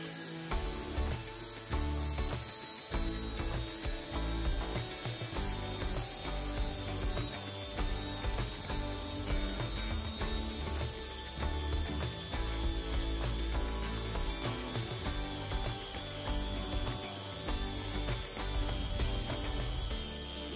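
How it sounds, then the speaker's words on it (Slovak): A Narex ABU 125-600 B 60V cordless angle grinder runs with a fibre disc against a weld seam, giving a loud, continuous, gritty grinding whine with fluctuating rasping texture throughout, no talk. "Ďalej pokračujem fibrovým kotúčom, rovnako brúsením zvaru."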